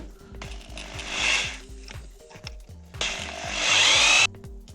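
A power drill bores a hole through a window frame during a warm-installation window fitting, with two sustained whining bursts of drilling separated by a brief pause, close and fairly loud.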